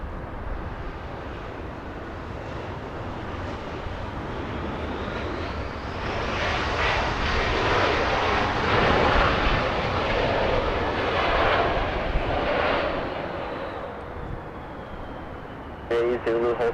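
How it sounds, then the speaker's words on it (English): A 17-year-old Boeing 747-400 departs the south side of LAX bound for Seattle, its jet engines building to a loud broad roar that swells and then slowly fades, with voices talking over it. "A south side departure now. Oh, look at that. That's a 747"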